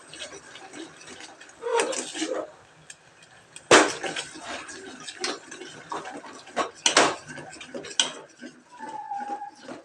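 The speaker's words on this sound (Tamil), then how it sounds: "இப்போ நல்லா கிண்டணும்." A jackfruit mixture with added sugar is stirred in a pan for jackfruit ice cream. Irregular spoon scrapes and metallic clinks against the pan come in close bursts with quieter gaps between them.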